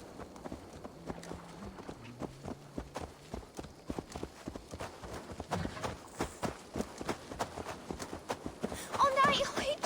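Horse hooves clip-clop at a steady walking pace in the Assassin's Creed Valhalla video game, moderately near, with music and other game sounds under the footfalls.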